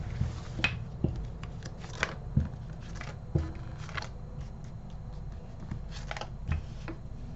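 Tarot cards being shuffled, soft repeated riffling and flicking sounds at an irregular pace, quiet and close over a faint background hum.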